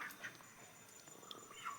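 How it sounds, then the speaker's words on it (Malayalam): Neighbourhood ducks quacking at a distance, a few faint, short nasal calls scattered over quiet background. "താറാവുകളുണ്ടോ അയൽവക്കത്തെ താറാവുകളാണ് കേട്ടോ"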